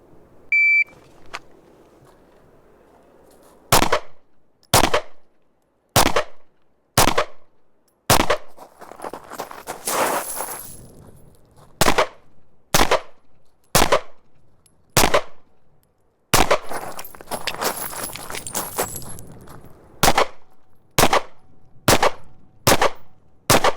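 Rapid pistol gunshots from a Taurus GX4 on an outdoor timed range, about fifteen sharp loud cracks in uneven bursts, with a brief electronic beep at the start and rustling handling noise between strings of shots.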